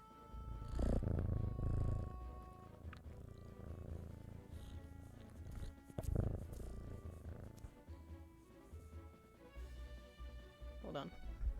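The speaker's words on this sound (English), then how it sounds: "I'm so glad that the mic picked up on the purring." A young cat purrs right against a microphone, a low rumbling steady purr running through the whole stretch, with a person talking over it and some background game sound.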